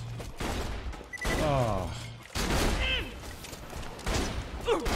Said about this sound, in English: now who's shooting at us?